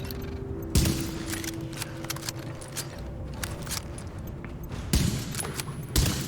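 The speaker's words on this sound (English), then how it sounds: "Ammo is not a problem for me here, but there is a few wasted shots." Sniper rifle shots from The Division video game sound as three loud, sharp reports spaced several seconds apart against constant game ambience with faint clicks.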